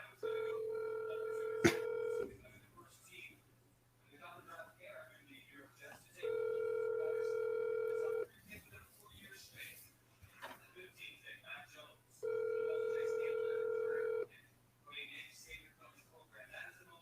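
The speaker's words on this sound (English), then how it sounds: "Let's see if I can get Josh on the phone real quick" Telephone call being placed: three bursts of a steady, tonal ringback tone, each about two seconds long, come at regular intervals, and muffled talk and background noise fill the gaps between them.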